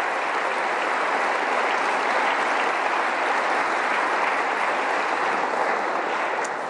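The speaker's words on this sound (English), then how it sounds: "Please give her a big round of applause." Loud, sustained applause fills a large hall during a state of the state address in West Virginia, a dense wall of clapping from a big crowd that holds steady throughout with no speech over it.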